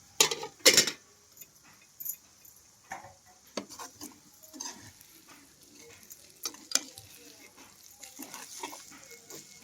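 Green chillies cook in a pan for a Guntur-style ivy gourd and fresh coconut garlic chutney, with scattered scraping stir strokes and light sizzling, fairly close, no voices.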